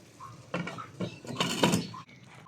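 A lid clatters onto a pot of pork adobo with pineapple and tidbits, a few metallic clinks and scrapes in quick succession at close range in a home kitchen.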